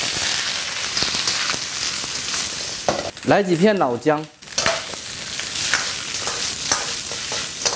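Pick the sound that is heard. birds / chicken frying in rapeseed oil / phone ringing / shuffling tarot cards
chicken frying in rapeseed oil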